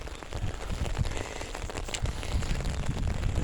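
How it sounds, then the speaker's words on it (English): Steady rain falls in a cemetery, a dense patter of drops on nearby surfaces that holds constant and slightly builds, fairly quiet and close, with no talk. "Rains are coming down on me now."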